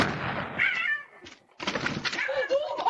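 A cat yowls and meows in drawn-out, wavering cries, close and fairly loud, broken by a short pause and mixed with a few sharp knocks and bangs.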